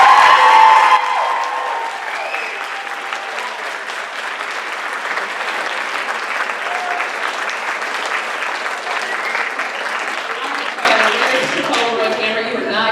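Sustained audience applause at an award ceremony as the winner goes up to collect her award. The steady crowd clapping runs throughout with some cheering, and a voice speaks briefly near the start and again near the end.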